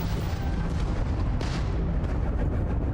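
Ship guns fire in Starfield, loud and dense, a constant booming barrage of rapid shots and blasts with no pause across the whole stretch.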